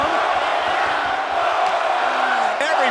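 Wrestling arena crowd at an AEW Double or Nothing women's match, Willow Nightingale versus Mercedes Mone, roaring and cheering loudly and steadily, a dense sustained wall of voices with a brief whoop near the end.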